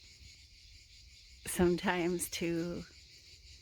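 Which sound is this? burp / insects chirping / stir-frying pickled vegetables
insects chirping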